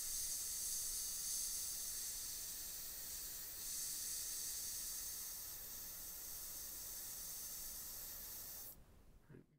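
An airbrush sprays paint onto a miniature in a steady, bright hiss that keeps going at an even level and then cuts off abruptly near the end.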